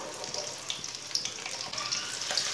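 Finely chopped onion frying in oil with whole coriander and cumin seeds gives a faint, steady crackling sizzle with soft pops throughout.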